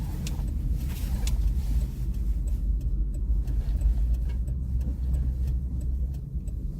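A 1957 Chevy rolls out on the road, a steady low engine drone and tire rumble heard from nearby, with faint ticking clicks over it and no voices.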